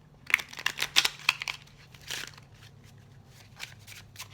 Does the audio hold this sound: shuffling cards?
yes